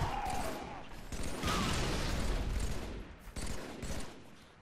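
Bursts of Halo 3 battle rifle fire in a video game match, clattering rapid shots with mechanical reload clicks and ambient combat noise, moderately loud and close.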